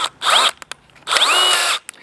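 A power drill fitted with a driver bit, used while working on an RV hydraulic slideout, whirs loudly in two close bursts separated by a brief pause, with quick taps between them.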